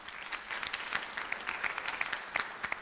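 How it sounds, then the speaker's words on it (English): An audience at a school board meeting applauds a student golfer, a brief burst of fairly faint, dense clapping heard alone at a steady level. "Let's give him a round of applause for that one."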